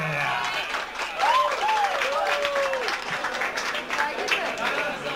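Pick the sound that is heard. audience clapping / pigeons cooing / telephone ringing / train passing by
audience clapping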